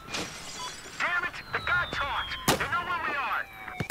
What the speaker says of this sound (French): On va essayer d'utiliser le pistolet.